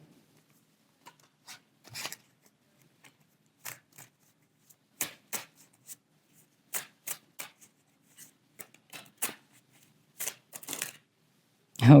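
Tarot cards being shuffled by hand, a series of short crisp riffling and sliding bursts spaced irregularly over a quiet background, close and fairly soft, with a louder knock at the end.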